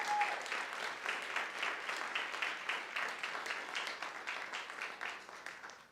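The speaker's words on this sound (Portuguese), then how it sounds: "Eu queria que a igreja recebesse então os nossos visitantes com uma salva de palmas." A church congregation claps together to welcome visitors, a dense steady burst of applause that swells at once and holds evenly before tapering off near the end, with no voices over it.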